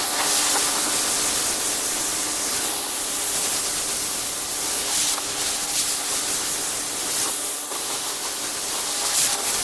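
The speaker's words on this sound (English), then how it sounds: "in the last step is just rinse everything off, get all your chemical off of things so you don't cause any discoloration" A pressure washer rinses chemical cleaner off stone and commercial signs: a steady, broad hiss of spraying water that holds for nearly ten seconds with slight surges, close and loud, with no talking.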